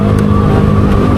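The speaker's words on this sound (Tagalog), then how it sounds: "tingnan mo, dami ng sasakyan" Heavy rush-hour road traffic on a Saturday afternoon: a dense, steady rumble of car engines with occasional revving, continuous and close, with no talk.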